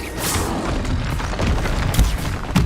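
In Hogwarts Legacy, the Stupefy spell hits with a loud booming impact, followed by a continuous rumbling blast and a few sharp thuds near the end.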